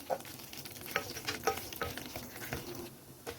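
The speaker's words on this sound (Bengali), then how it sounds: "বাদামটা একটু একটু আমরা ভাজা ভাজা করে নেব কিশমিশটাও দেখুন একটু ভাজা ভাজা হয়ে গেছে" Nuts and raisins fry in ghee, crackling and popping in quick irregular bursts while a spoon stirs the pan, close and fairly quiet.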